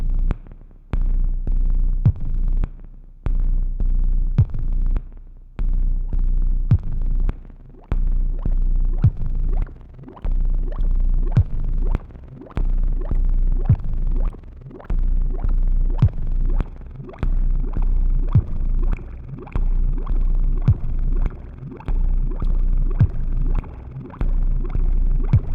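A low, steady synth drone from a Make Noise Dark Easel and 0-Coast throbs and pulses continuously, with rhythmic hits and soft clicks layered on top, no voices.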